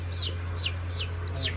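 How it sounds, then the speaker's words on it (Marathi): A chicken gives four quick, high, falling chirps at an even pace, fairly close, over a constant low electrical hum. "हे कोंबडा आहे का?"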